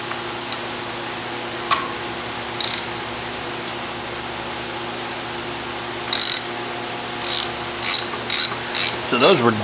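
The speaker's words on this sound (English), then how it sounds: "I'm going to take the old caliper off." Ratcheting hand tools click in short bursts while the old brake caliper is unbolted from an Amazon e-bike being converted to hydraulic brakes; several rapid clusters of clicks come close up, separated by quiet pauses.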